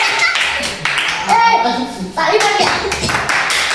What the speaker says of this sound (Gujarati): આપણો તાળી કહેવાય, તાળી.